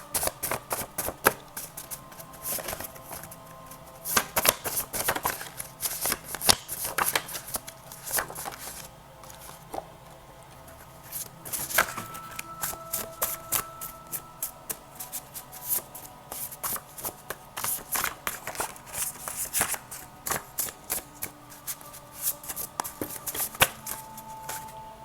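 Tarot cards are shuffled by hand, close up, in a long run of crisp riffling and flicking bursts with short pauses between them, and no one speaks.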